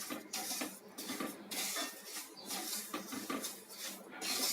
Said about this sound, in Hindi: अब इसे हम धीरे धीरे इसी तरह से हिलाते रहेंगे।